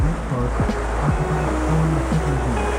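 A tour boat cruises far up the Harlem River in New York City, its steady engine rumble and water rush running continuously with a few low thumps, without speech.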